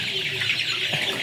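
Chickens on a poultry farm, 28-day-old birds, make soft clucks and short calls over a steady flock murmur, brief and moderately close.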